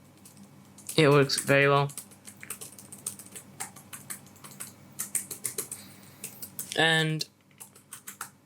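Light, rapid clicks of typing on a non-tactile Razer Blade 15 2020 laptop keyboard patter quietly and evenly between short bursts of someone speaking close by.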